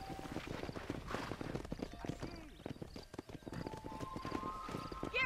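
Rhythmic clip-clop of horse hooves at a steady pace in Red Dead Redemption, with a brief whinny and a voice talking over it.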